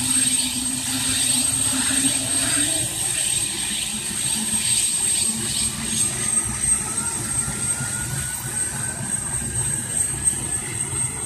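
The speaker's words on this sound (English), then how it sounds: "As the helicopter starts, it literally wants to tear itself apart because it's not supposed to fly like that." Black Hawk helicopter lifting off, a loud, steady close-range rotor and turbine roar with rising whine that continues without a break and never stands alone.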